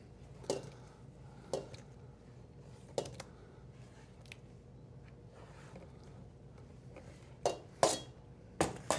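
Ingredients for a farro summer salad drop and clatter into a large bowl, several sharp knocks and scrapes spaced a second or so apart, louder near the end, over quiet kitchen background.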